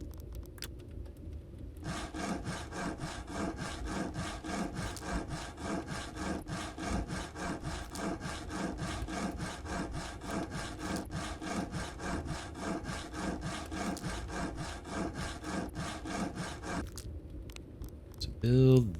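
Sawing wood planks in the Backwoods crafting game: a steady, rhythmic rasping saw stroke repeating continuously for about fifteen seconds, clean and close, ending abruptly before a short chime.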